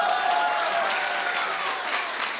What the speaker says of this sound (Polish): Ogromne brawa, kochani